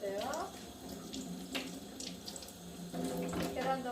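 Tap water runs steadily and close by while tofu is rinsed under the faucet during Korean green chili pancake prep, with faint splashing changes as the food moves through the stream.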